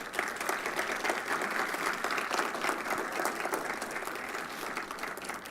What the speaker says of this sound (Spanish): los invito a brindarnos un cálido aplauso